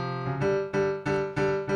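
Parallel fourths are played on a small 25-key keyboard: a short series of plucked, organ-like two-note chords struck in a steady rhythm, each decaying before the next, with no voices.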